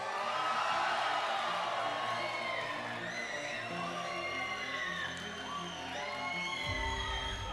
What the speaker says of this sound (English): Let's give it up one more time for the LAIC champion in the seniors division, Gabriel Fernandez.